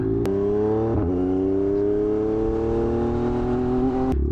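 A dyno-tuned 2024 Yamaha MT-09SP motorcycle pulls hard from a standstill, its loud, close engine note rising steadily through the gear with a brief dip at a shift before climbing again and cutting off near the end.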